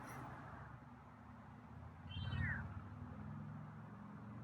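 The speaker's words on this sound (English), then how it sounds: "It's a interesting meow." A single feral male cat meows once, a short rising and falling call heard close over quiet background noise.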